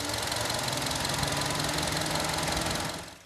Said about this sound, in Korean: 엔진에서 들리는 금속성 소음.